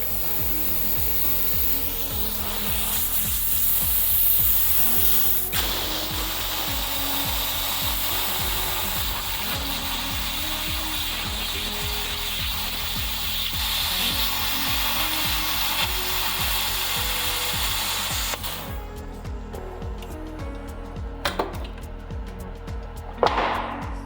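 An Everlast plasma cutter slices through metal for a bracket with a loud, steady hissing roar for about eighteen seconds, then cuts off, leaving a few faint clicks.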